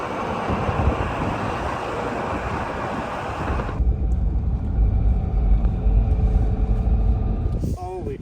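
A truck engine rumbles steadily while climbing a steep mountain track, low and continuous with wind buffeting the microphone, the tone dropping noticeably partway through as the vehicle labors on.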